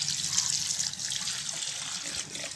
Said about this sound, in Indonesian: kita putar airnya ini biar di bawahnya juga kena air biar seger